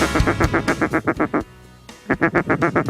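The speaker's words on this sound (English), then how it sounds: "Here's ducks, here ducks, coming straight in" Rapid series of loud, close mallard duck quacks in a rhythmic burst, a short pause, then another quick run of quacking, during a duck hunt in Argentina.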